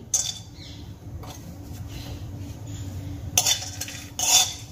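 Whole spices, cinnamon, cloves, cardamom and dried chillies, frying in a pan, with quiet sizzling under a few sharp clinks and scrapes of a spatula against metal.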